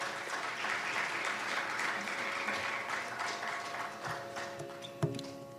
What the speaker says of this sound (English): Let's give Valli another round of applause for that beautiful performance.